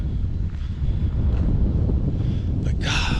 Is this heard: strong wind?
yes